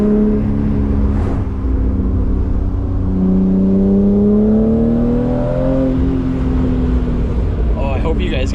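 A BMW E36 M3 fitted with loud headers burbles and rumbles through its exhaust on a tight mountain road, engine tones rising and falling steadily and loud close to the car, with a voice speaking over it.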